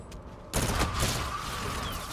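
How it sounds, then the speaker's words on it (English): Assault rifle fire in the shooter game Infinite Warfare, an R3K-type weapon: a loud sustained burst starts abruptly after a quiet half second and rattles on steadily to the end. "I think it might be the worst assault rifle in the game"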